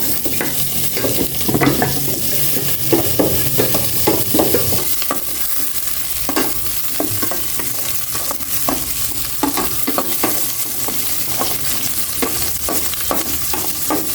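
Onions sautéing in a frying pan, a constant loud sizzle with regular scraping stirs throughout, close up.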